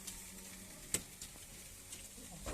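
Vegetable chowmein frying in a wok as tomato sauce is added, a low steady sizzle with a few sharp clinks of a utensil against the pan, fairly quiet and with no talking.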